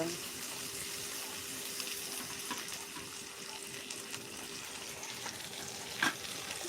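Onions sautéing in oil for kanda poha, a faint steady frying hiss with occasional stirring clinks, a brief louder clatter near the end, and low voices in the background.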